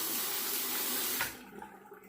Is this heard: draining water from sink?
yes